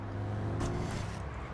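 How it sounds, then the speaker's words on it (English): A Toyota Supra engine in the video game Watch Dogs, a low steady car drone with a brief swell of revving partway through, fairly close. "This sounds like a Supra. I swear it sounds like a Supra."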